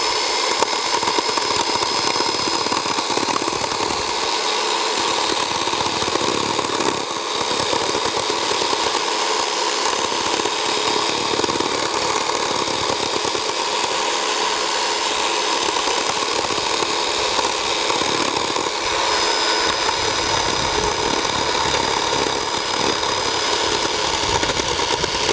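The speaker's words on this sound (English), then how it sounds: "use this chainsaw" A chainsaw, set to be used on a bonsai, runs steadily at a constant pitch for the whole stretch, loud and close, with no cutting changes and no talking.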